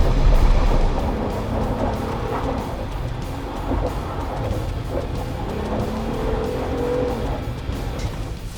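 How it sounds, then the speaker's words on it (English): A 2018 Jeep Wrangler JL Sahara spins donuts with traction control switched off, its engine droning loudly and steadily while tires squeal and scrub in wavering bursts across the whole stretch, with no talk. "ripping donuts will always be fun"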